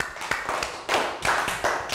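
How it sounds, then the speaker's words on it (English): Class applause in a primary school lesson, a short burst of hand clapping that rises and falls in a few uneven waves over about two seconds. "Round of applause."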